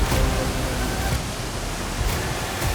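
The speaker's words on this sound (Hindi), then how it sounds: "हमने एक एक करके झरना पार किया।" Waterfall in a Chhattisgarh forest, a steady, loud broadband roar of rushing water that fills the scene without a break.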